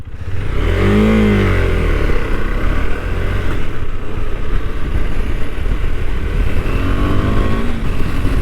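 A KTM 390 Adventure motorcycle's single-cylinder engine drones steadily and loudly while being ridden, with a rising rev near the start and constant wind rush throughout.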